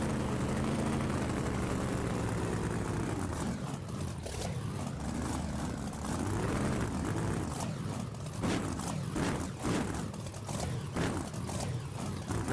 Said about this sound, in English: I just love the way this truck sounds.